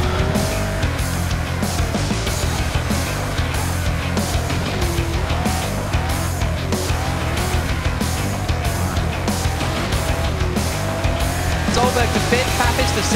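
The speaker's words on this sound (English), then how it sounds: "They're racing Brabham BD44Bs around the new Zandvoort circuit." Brabham BT44B race cars lapping the new Zandvoort circuit in a sim racing game, engines droning continuously with tire squeal mixed in, loud and steady throughout without a break.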